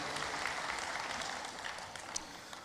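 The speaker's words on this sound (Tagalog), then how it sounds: "hatagig masipang palakpak ang Ginoo" A church congregation claps during a Sunday celebration service, with dense, steady applause that is fairly faint and heard from a distance, plus a few sharper claps standing out.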